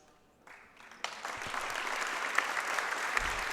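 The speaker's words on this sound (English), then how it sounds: "a unanimous round of applause for Sophie Lemley" Applause at a girls' high school basketball game rises from a quiet gym to a sustained, fairly loud round of clapping from the crowd as an injured player is tended on the court.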